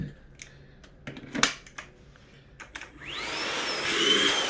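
A few sharp clicks and taps, then a Milwaukee cordless vacuum whirs up and keeps running steadily, close and fairly loud, in a 3D printer room.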